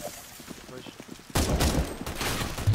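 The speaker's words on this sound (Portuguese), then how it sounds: "eu estou quase a morrer com as explosões que o gajo faz" Dense volley of gunfire and blasts from a boss fight on a CS:GO workshop map, starting abruptly halfway through and staying loud and continuous, with quieter game sounds and faint talk beforehand.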